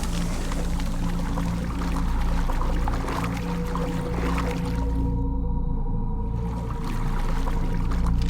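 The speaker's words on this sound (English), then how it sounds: "The valve triggers a rush of water through the pipes, followed by the sound of a door opening." Water rushes through pipes after a valve is turned in the game Dungeons & Dragons Online, a loud continuous gushing and pouring roar with low rumble, briefly thinning midway before surging again.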